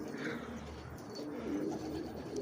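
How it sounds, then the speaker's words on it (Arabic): Pigeons cooing steadily at low volume, soft repeated throaty calls with no talking. "تعالوا نشوف شو معانا حمام يا حبايبي"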